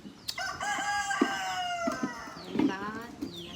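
A mother hen with her chicks calls close by in a farmyard, giving a few drawn-out, wavering calls mixed with short clucks over faint background noise.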